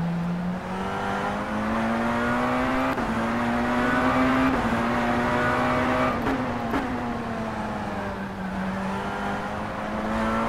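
Tatuus FT-50 race car engine in rFactor 2 at Highlands Motorsport Park, a steady loud engine drone that rises and falls through gear changes, with a few quick shifts. No speech.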